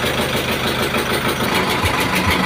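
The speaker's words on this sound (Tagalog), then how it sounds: "Ayan po, 4DR5 din po yung makina nila ngayon." A 4DR5 diesel engine on a rice harvester runs steadily at idle, a loud, close, continuous knocking chug with no talk over it.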